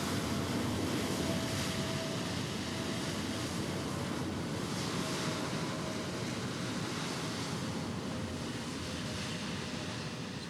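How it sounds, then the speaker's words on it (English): An Airbus A321neo arriving at JFK in Microsoft Flight Simulator 2020 gives a steady, loud, broadband roar that holds evenly for the whole stretch, with no one talking. "One of the new ones. Airbus A321neo."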